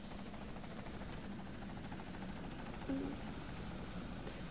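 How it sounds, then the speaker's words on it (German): A helicopter in the video game Deadlight hovers nearby, a steady low droning rotor hum running unbroken with a brief louder bump partway through. "Der Hubschrauber ist schon wieder hier."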